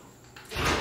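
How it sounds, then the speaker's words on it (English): A door in a house under renovation is pulled shut, a soft sliding sweep that ends in a louder, fuller thud of closing, close by and with no voices. "Door's still open, we have to close it down."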